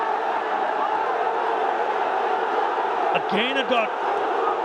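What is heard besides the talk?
cricket stadium crowd getting vocal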